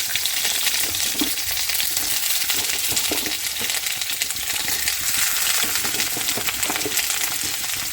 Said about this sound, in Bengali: ছোটো ছোটো কাটা কুমড়োগুলো দিয়ে দেবো তেলের উপরে